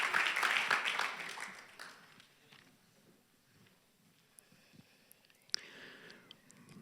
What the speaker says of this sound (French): applause for Jean-Éric.